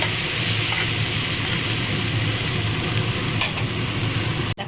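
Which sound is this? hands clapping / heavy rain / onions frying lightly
onions frying lightly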